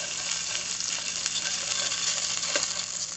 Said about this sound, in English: add a little oil to the pan. Fresh garlic. Saute this for about